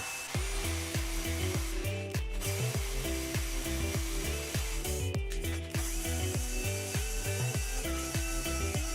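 A loud, continuous core drill bit grinds into an apartment wall, with rapid rhythmic hammering pulses throughout and no talking.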